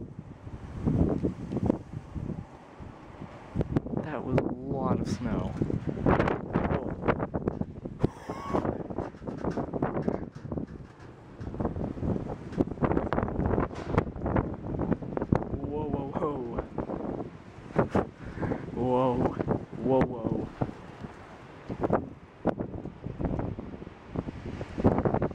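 Strong chinook wind gusts batter the microphone in loud, roaring bursts with rustling, while people talk excitedly over the blasts throughout.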